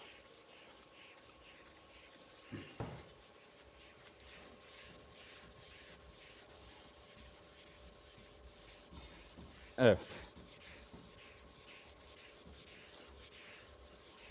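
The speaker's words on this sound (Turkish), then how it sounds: "Şimdi 600 numara zımparayı geçeceğiz. Yine biraz ıslatıyoruz." Soft, steady rubbing of 600-grit wet sandpaper on primer under a faint background hum, with a couple of sharper knocks; a single short word is spoken.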